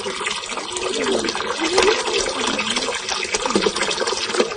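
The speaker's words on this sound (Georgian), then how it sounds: "დღეს უკვე მეათედ მოვიდა წყალი" Running water arriving through a village channel gives a steady rushing, splashing flow throughout, with voices talking over it.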